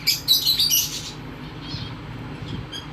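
Cockatiels in a breeding cage, a pied and pearl pair among others, give a burst of shrill squawks and chirps close by, then quieter scattered calls after about a second.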